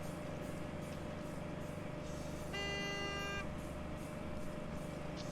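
Fuel truck in a car wash video game pulls in and sounds one clear horn blast of about a second, loud over a steady engine and traffic drone.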